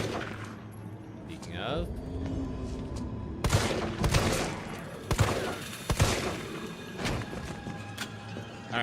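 Gunshots in the video game Resident Evil 2, a cluster of loud, sharp shots fired a second or so apart in the second half, over game ambience, with a person briefly speaking.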